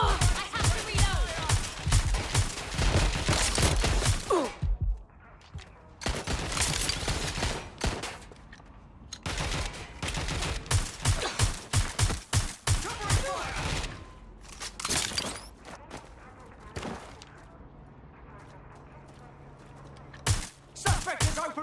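Gunfire in the video game Watch Dogs Legion: loud, rapid volleys of shots in dense bursts separated by short pauses, with game voices mixed in.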